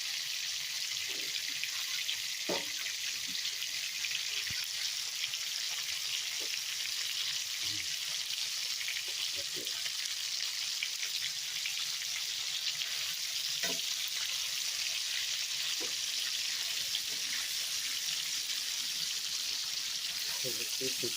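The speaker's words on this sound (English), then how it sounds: "I gotta put it in the pan, then I'll put the sauce on." Lamb chops fry in a pan with a constant, even sizzle that never lets up, broken by scattered small pops and faint clicks over about twenty seconds.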